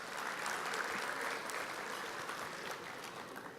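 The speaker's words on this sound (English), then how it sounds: "How about a big round of applause for the whole team here at the Renaissance" An awards-night dinner audience at the Renaissance claps in a sustained, even round of applause, moderately distant and fading slightly toward the end.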